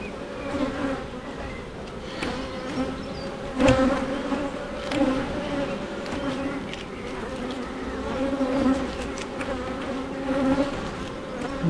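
Honeybees buzz during a hive inspection of a brood box, a dense continuous hum of many insects close by, with individual bees swelling louder as they pass near.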